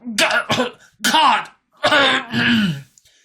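A strained voice gives several harsh, throaty coughs and groans in separate bursts, like someone choking and clearing their throat in pain, coughing up blood inside a helmet with a blood-filled lung.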